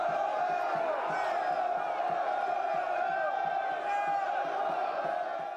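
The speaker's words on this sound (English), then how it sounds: "They come out into the arena with a crowd shouting for blood" A large arena crowd in Gladiator shouting and roaring for blood, a dense sustained wall of bellowing voices that stays loud and unbroken throughout.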